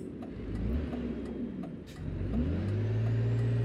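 Renault Magnum truck with a chipped engine in Euro Truck Simulator 2, a low engine drone that dips at a gear change and then revs up into a steady louder hum, no talk.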